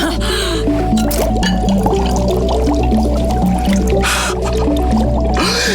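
Bright blue liquid bubbling during a children's Vacation Bible School demonstration, a steady squishy, gurgling wet sound with drips running loudly and continuously, with a faint voice briefly in the background.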